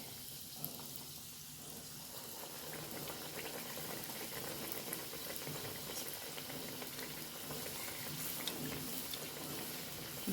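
Egg-based snack batter frying in a pan of hot oil, a steady bubbling sizzle that continues evenly and fairly close throughout, with no talking.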